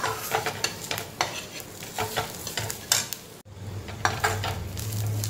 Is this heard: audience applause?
no